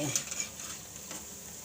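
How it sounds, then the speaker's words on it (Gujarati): Spinach chakri frying in foaming peanut oil, a continuous soft sizzle with a light clink of a utensil against the pan at the start. "બધી આપણે પલટાવીને સરસથી ક્રિસ્પી થાય ત્યાં લગી આને તળી લેવું"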